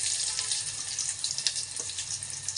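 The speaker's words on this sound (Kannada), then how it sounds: "ಇವಾಗ ಎಣ್ಣೆ ಕಾಯಕ್ಕೆ ಇಟ್ಟಿದೆ, ಎಣ್ಣೆ ಕಾದಿದೆ. ಇವಾಗ ಈರುಳ್ಳಿ ಹಾಕ್ತಾಯಿದ್ದೀನಿ." Onions hit hot oil for egg sambar, giving a steady, faint hiss and sizzle with a few soft crackles, heard alone.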